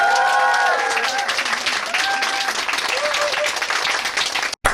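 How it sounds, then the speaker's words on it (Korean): Applause from an audience at a book concert, steady clapping filling the whole stretch, with a voice speaking over it and a brief cut near the end. "이상훈 박사님 뜨거운 박수로 모셔보겠습니다."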